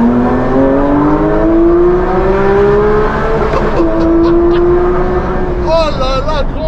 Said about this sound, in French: Oh là là, grand coup de rupteur.